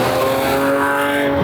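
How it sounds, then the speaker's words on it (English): A Lamborghini supercar fitted with its factory-built sport exhaust drives past close by, a loud, sustained engine roar with rising and falling tones filling the whole moment, no voices. "Even as it sits right now with the Lamborghini factory-built sport exhaust, which is the louder exhaust right from Lamborghini on that car."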